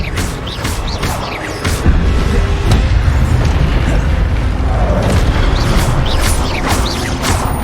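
Levioso and Expelliarmus spells cast in Hogwarts Legacy, producing loud booming bursts and sharp magical cracks at irregular intervals over dense, rumbling game effects.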